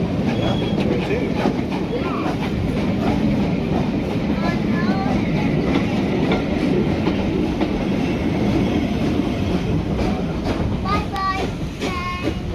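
Mogul and Manor steam trains on the West Somerset Railway, a loud continuous rumble of rolling stock with rhythmic clickety-clack and occasional wheel squeal, close by and steady throughout.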